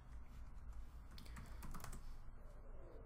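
Rapid typing on a computer keyboard, a steady run of close, crisp key clicks with a few louder strokes, heard alone with no talk.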